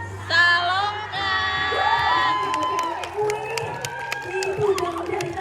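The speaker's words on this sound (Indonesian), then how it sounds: "Aku mau yang menggelegar 1 juta orang yang mau teriak ya" Large crowd at the Saloka theme park water fountain show shouting together in loud, sustained unison, with an amplified host's voice over and between the shouts.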